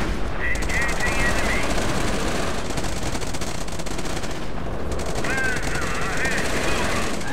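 Machine gun fire from a unit in the video game Company of Heroes during a custom battle: dense, loud, continuous bursts of automatic fire with blasts layered over one another, a battlefield din with no pauses.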